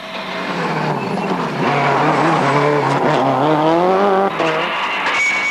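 A rally car at the 2006 Galway International Rally drives fast, its engine rising and falling in pitch through gear changes with tyre noise, loud and close, apparently heard from inside the car.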